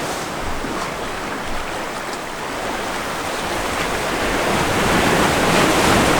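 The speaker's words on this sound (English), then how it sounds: "You got to be careful because the waves come sneaking up on you here." Ocean waves surge against the rocky coast at Ponta da Piedade in Lagos, Portugal, a loud, continuous roar of surf and churning water that swells toward the end, close by and with no voices.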